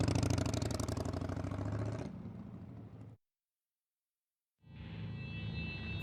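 Motorbike engine revving loudly up close, then trailing off to silence, and after a brief gap a lower engine tone returns with a thin high whine, as a sound effect in a horror story.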